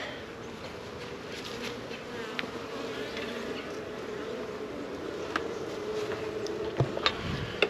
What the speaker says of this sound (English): make some interesting noisy footage of these little bees humming around.